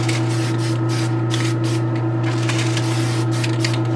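Testors Dullcote matte coat sprayed from an aerosol can onto a painted doll pillow, a loud continuous hiss with a strong steady low hum underneath, close and unbroken throughout.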